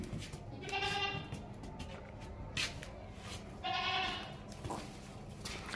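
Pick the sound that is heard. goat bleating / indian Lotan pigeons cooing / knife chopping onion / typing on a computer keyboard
goat bleating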